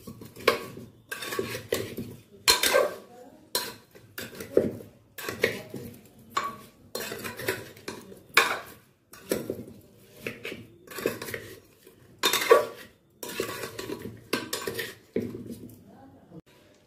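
Potato and cauliflower are mixed with spices and a little curd in a metal pan, bringing repeated rhythmic scraping and clanking spoon strokes in close bursts, with short pauses between them.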